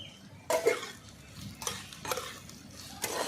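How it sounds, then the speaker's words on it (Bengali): Ivy gourd (kundru) frying with onions in a pan, a quiet sizzle punctuated by four or five distinct stirring scrapes of a spatula against the pan, close up, with no voices. "ভালো করে একটু লাল করে ভেজে নেব কষিয়ে নিলাম প্রথমে"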